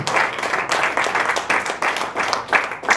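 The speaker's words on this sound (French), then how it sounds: "vous pouvez applaudir toute l'équipe du jury et des films en compétition qui est présente aujourd'hui" Dense, steady applause from an audience at a film festival opening ceremony, honouring the jury and competing film teams, filling the whole stretch with continuous clapping that swells and dips slightly.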